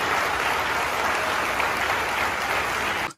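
A crowd claps loudly and continuously in a recorded video playing back, dense and steady until it cuts off abruptly at the end.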